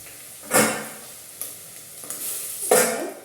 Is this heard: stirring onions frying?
yes